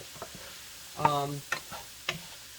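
Chopped vegetables sweat in a salted pot for shrimp and sausage jambalaya, giving off a faint, soft sizzle broken by a few brief clinks and scrapes of stirring.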